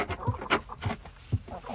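Chickens cluck in a coop in Talkeetna, with a few short, close clucks in a quick uneven rhythm over a faint steady hum.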